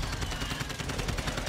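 Video game gunfire in a shooter, dense rapid bursts of shots crackling loudly and continuously without pause, no talking.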